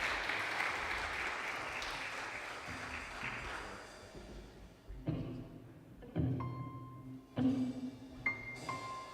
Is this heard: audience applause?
yes